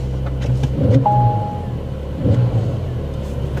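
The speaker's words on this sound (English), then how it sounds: "So when you go to sport, it automatically puts it in the sports exhaust." Idling Porsche 992 Carrera 4S with its sports exhaust valves open, a steady low rumble close by with slight swells, plus a brief electronic beep partway through.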